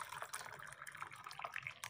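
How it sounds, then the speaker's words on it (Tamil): Hot water poured from a stainless steel bottle, a close, continuous splashing trickle lasting about two seconds with no voices over it. "இப்போ நம்ம ஓப்பன் பண்ணி ஊற்றலாம்."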